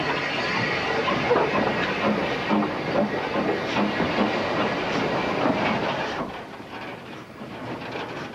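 Hunslet steam locomotives move along the narrow-gauge Ffestiniog Railway, a steady rumbling roll with rhythmic wheel clatter and steam hiss, fairly close and continuous before easing slightly toward the end.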